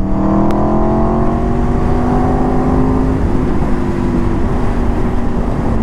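Aprilia RSV4 RR motorcycle engine holding a steady, loud drone with a slight gradual rise and fall in pitch, close up over heavy wind rush, with no talking.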